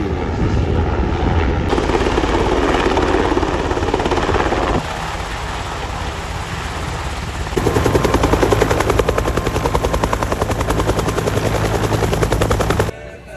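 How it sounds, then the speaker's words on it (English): A Navy search and rescue helicopter's rotor thumps and turbine whine fill the air, loud and steady, swelling as it draws closer and lands, then cutting off abruptly at the end. "we've got another helicopter coming in soon"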